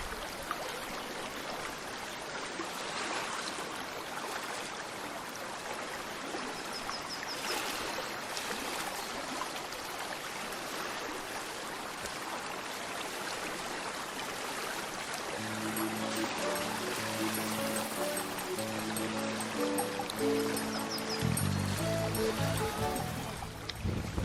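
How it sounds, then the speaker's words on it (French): Water of the high-running Rio Preto in Brazil rushes in a broad, steady wash, fairly faint and continuous throughout, with a musical tone entering over it near the end. "La rivière est bien haute en ce moment."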